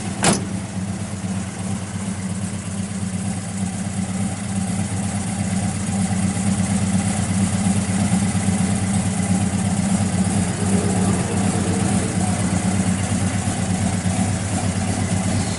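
A 1964 Chevrolet Chevelle Malibu SS 396 with a 750 Holley carburetor idles loud and close, a deep, steady, lumpy rumble after a brief click at the start, running on alone.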